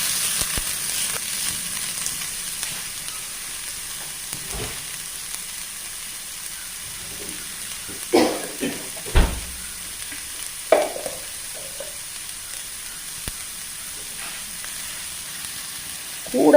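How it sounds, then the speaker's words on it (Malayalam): Small chopped onions frying with ginger in a hot pan for an onion curry give a steady close sizzle, broken by a few sharp utensil knocks and stirring scrapes, with no talking. "ഇനി നമുക്ക് ഉള്ളിയും കൂടെ അതിൻ്റെ കൂട്ടത്തിൽ ഇട്ട് കൊടുക്കാം"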